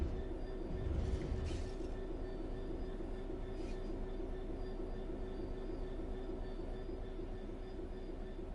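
Train coasting on level track with throttle off in the Train Sim World 4 game: a steady, continuous low rumble and hum of rolling wheels with a faint tonal whine, level and unbroken throughout.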